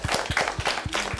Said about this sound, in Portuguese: salva de palmas para ele